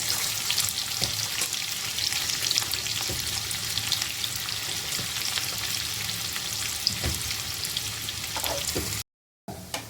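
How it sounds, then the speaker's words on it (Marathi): Onion frying in hot oil in a kadhai for a restaurant-style chicken angara, a loud steady sizzle with occasional stirring scrapes, close and continuous before a brief cut near the end. "तेल आपलं गरम झालं आहे आता आपण हा कांदा फ्राय करून घेऊया"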